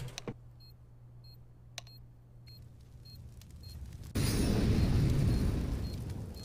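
A planted bomb in the video game CS:GO beeps in sharp, evenly spaced chirps over a low hum, then erupts into a loud, rumbling explosion that fills the rest of the moment and slowly fades.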